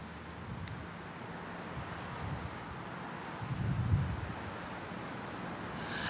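Strong wind in a snowstorm with heavy snowfall on roads in Shumen Province, Bulgaria, a steady broad roar buffeting the microphone with a louder gust near the end, no voices.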